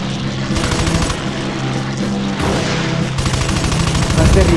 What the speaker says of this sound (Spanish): ¡Protege los portaaviones! ¡Se aproximan aviones enemigos!